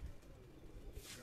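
Pigeons coo softly on a Karachi rooftop in a short, low burst of cooing over faint background noise.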